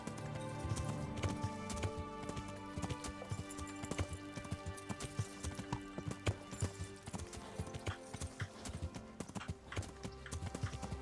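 A horse gallops across fields and through brush in Kingdom Come: Deliverance, steady rapid hoofbeats close up with rustling and a faint whinny, layered over game ambience and music.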